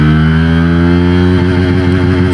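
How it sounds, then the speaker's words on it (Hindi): A 2026 Bajaj Pulsar N160 SS 4V motorcycle engine runs loud and close, holding a strong, even drone whose pitch shifts slightly partway through as it pulls through the gears. "Pulsar N160 SS 1st to 5th gear all gear top speed"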